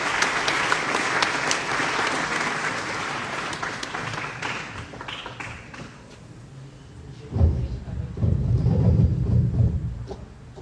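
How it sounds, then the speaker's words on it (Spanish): An audience at a model UN inauguration breaks into loud, sustained applause that gradually thins out, followed by heavy low thumps and rumbling near the end. "Demos un fuerte aplauso, por favor."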